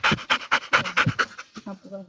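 A golden retriever pants hard after a walk, a quick steady run of loud, breathy huffs up close that taper off, followed by a person starting to speak.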